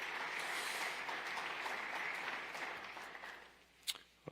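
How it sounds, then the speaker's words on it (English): A sustained round of audience applause at a county executive's State of the County address, a steady wash of clapping that tapers off near the end with a few last scattered claps. "We're going to pause for another round of applause"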